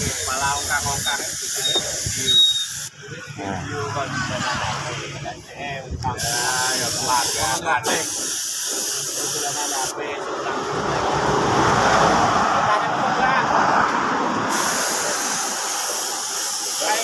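A spray gun hisses out clear coat onto a Honda Beat motorcycle body panel in a paint session, with long loud bursts of airy spray broken by short pauses, while someone talks throughout.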